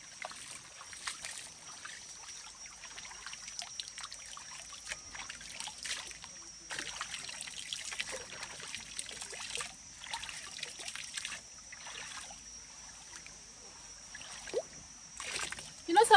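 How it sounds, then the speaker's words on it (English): A clean village river in Africa flows with a soft, continuous trickling hiss and scattered small splashes close by, while a person talks over it. "The water is flowing"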